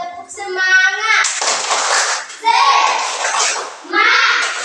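A group of children stands for an icebreaker cheer and claps together in quick, steady bursts, loud and close, with their excited voices chanting between the rounds of clapping.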